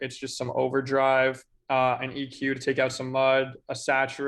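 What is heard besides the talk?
No everyday noises stand out.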